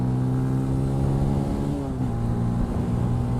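Benelli TNT 135 motorcycle (2018) being pushed toward top speed, its small engine droning steadily with rising and shifting harmonic tones and a continuous loud whine across the whole stretch, with no speech.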